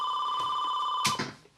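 A home office telephone rings with a steady electronic trill, moderately loud and close, before cutting off abruptly.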